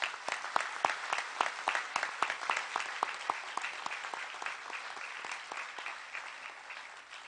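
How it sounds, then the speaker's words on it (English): A graduation audience at a community college commencement claps for students earning top academic honors, a distinct, fairly distant round of individual claps that starts strong and gradually thins out over several seconds. "Please give all of these students a collective round of applause for their academic"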